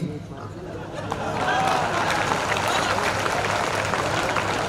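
Audience clapping at a Hindi comic poetry (hasya kavi) show, applause rising after a quiet start and holding steady as a dense, sustained patter with some crowd murmur.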